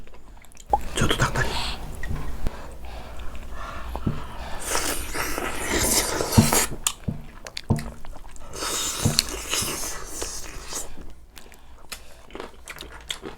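Wet chewing and biting while eating abalone and cockle samgyetang, a Korean ginseng chicken soup, close and steady throughout, with soft talking over parts of it.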